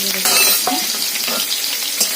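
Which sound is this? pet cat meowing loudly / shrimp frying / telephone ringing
shrimp frying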